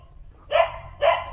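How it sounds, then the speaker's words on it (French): A dog barks twice at the Wat Nam Tok Thammarot temple in Pattaya. The two sharp, close barks come about half a second apart over quiet background noise. "Attention les chiens, j'arrive."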